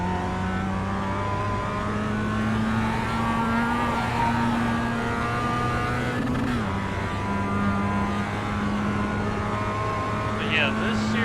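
A race car engine in the iRacing sim at Oulton Park drones steadily at high revs, with a brief shift in pitch midway and a passing rush near the end, as a voice talks over it.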